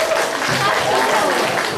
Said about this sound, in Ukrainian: Аплодисменти переможцям олімпіад.